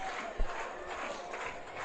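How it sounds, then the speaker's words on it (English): A football stadium crowd warms up before a Chariton versus Knoxville game, a steady distant roar of voices and cheering with one low thump early on. "You hear the crowd warming up, ready to bring out the Panthers."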